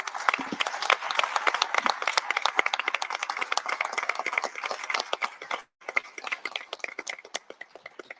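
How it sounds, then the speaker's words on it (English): An audience at a school district candidate forum applauds the moderators: thick, fast clapping from many hands that briefly drops out near the end, then returns thinner and more scattered. "Can we get a round of applause for your moderators, please?"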